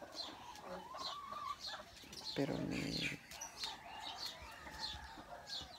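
A very large rooster clucks repeatedly in short bursts close by, while a person speaks briefly in Spanish over the birdsound.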